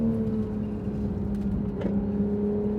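A Porsche 911 GT3 RS 991.1 engine pulls with a steady, droning whir from inside the car while being short shifted, holding a moderately loud even tone with a slight rise in pitch near the end.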